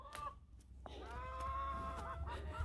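Chickens cluck and warble nearby in a quiet barnyard, soft drawn-out calls with a low hum underneath and no voices.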